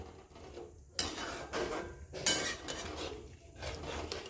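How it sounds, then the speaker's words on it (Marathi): A spoon stirs black soybean curry in a home kitchen pot over medium heat, giving scattered scrapes and clinks against the metal between soft quiet gaps, fairly close and not loud, with no talking. "हे बघ चांगल्या प्रकारे हलवून घ्यायचं आहे"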